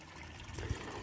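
Water trickling into a garden fish pond after heavy rain, a soft close continuous dribble with no talk.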